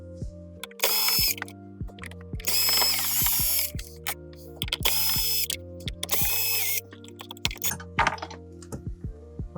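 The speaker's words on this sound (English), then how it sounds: "taking out the radio, which will just be these 4 Phillips head screws" Four Phillips head screws being removed from a Lexus LX radio with a power driver, several loud whirring bursts separated by quiet pauses and small clicks, close up.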